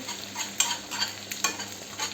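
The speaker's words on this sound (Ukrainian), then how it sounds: "і тепер ці гриби ми смажимо, аби не було в них" Mushrooms sizzle and fry in a pan, frying off their water, with periodic scraping stirs breaking through the steady crackle.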